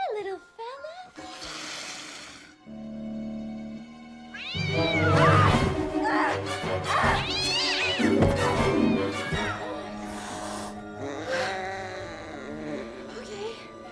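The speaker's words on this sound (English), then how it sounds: "I think I know why you're mad, Mr. Cat." An angry cat yowls, meows and caterwauls in drawn-out, wavering cries, close and loud, with short gaps between calls and a brief voice near the start.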